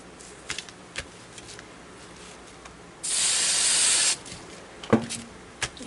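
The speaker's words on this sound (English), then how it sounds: "I'm just going to spray it real quick." A single burst of hissing spray from a spray can lasting about a second, preceded and followed by quiet clicks and handling noises.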